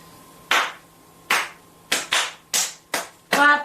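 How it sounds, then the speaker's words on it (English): Sharp hand claps ring out one at a time at an uneven pace, seven in all, with a faint steady hum underneath. "Clap, clap, clap, clap, clap, clap"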